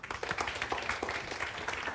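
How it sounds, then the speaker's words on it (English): An audience claps together at a talk on trends and social media, a steady patter of many hands filling the room for about two seconds. "Can you give a round of applause to Moose?"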